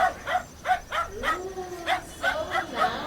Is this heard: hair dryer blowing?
no